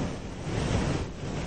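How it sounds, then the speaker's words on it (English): Typhoon-driven waves crash over a concrete seawall, a loud, close roar of surf and gusting wind buffeting the microphone without pause. "the waves behind me as they crash over the concrete barrier"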